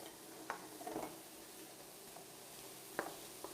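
Chopped onion and frozen peas cooking in a pan, with a soft continuous sizzle under a few light clicks and scrapes of a utensil stirring against the pan.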